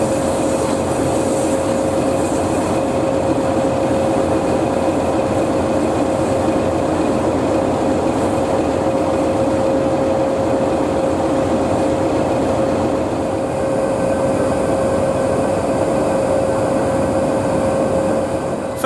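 Heritage train 8572 pulls out of Sheringham station towards Holt, a steady low engine rumble with a sustained tonal whine, continuous and fairly close for the whole stretch.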